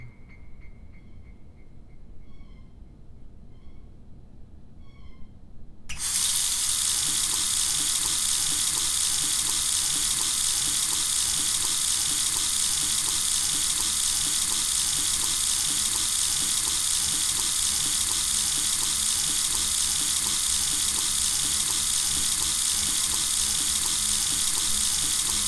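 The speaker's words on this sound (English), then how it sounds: "I feel the water rushing over my face." A tap runs in a loud, steady rush of water that starts abruptly after a few seconds of near quiet and continues unbroken, close and alone with no talk.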